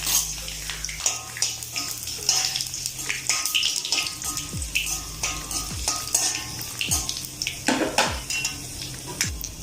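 Dried red chillies hit hot oil in a pan while cooking capsicum thoran, a steady crackling sizzle with spoon stirring and scraping clinks throughout, close and moderately loud.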